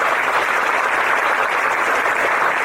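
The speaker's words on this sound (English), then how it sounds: "Give yourself a warm applause for coming here." A seminar audience applauds indoors, steady dense clapping from many hands sustained at even loudness throughout with no voices over it.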